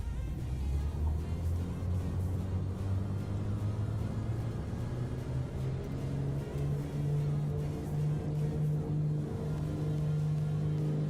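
A light general-aviation aircraft engine at full throttle in a flight simulator game: a steady, loud droning hum with a prominent low tone that rises slightly in pitch partway through, continuous and unbroken throughout.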